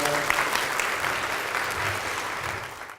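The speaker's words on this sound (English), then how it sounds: "Give everybody a round of applause." An audience at a health seminar applauds in a dense, steady burst of clapping that fills the room and fades out at the end.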